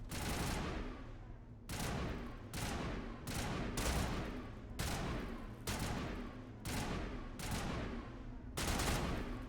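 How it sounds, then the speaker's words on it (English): Gunfire in the video game Mass Effect, a steady string of close, loud bursts, each starting with a sharp crack and separated by brief gaps, repeating about ten times. "She's just shooting past my head, no big deal."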